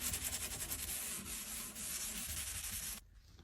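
Fine 4/0 steel wool buffs the wood of an old cedar chest in rapid scrubbing strokes, a steady close rasping hiss that cuts off abruptly near the end.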